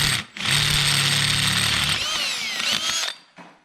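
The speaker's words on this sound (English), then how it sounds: "Change this to drilling." A power drill whines loudly and steadily while working on a Ford 6.4 Powerstroke diesel truck during up-pipe and cab removal, running for about three seconds, changing pitch near the end, then cutting off.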